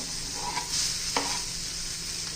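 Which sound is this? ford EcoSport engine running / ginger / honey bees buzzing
ginger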